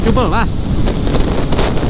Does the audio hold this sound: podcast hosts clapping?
no